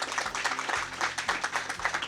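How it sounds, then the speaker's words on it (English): Audience at an awards ceremony clapping steadily, a dense even patter of many hands, moderately loud and without voices. "I want one more round of applause for Robert Nordland"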